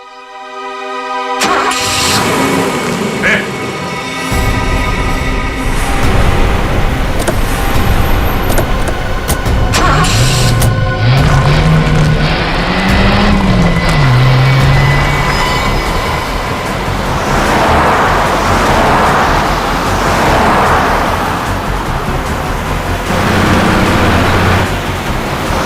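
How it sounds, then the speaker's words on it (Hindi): A loud engine revs up and a vehicle drives off, a heavy rumble with rising and falling engine tones and road noise throughout. "गाड़ी बहुत तेज चला रही है।"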